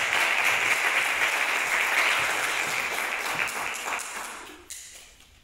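An audience at a music recital applauds a singer before her performance, with steady, fairly close clapping that holds strong and then thins and fades out near the end.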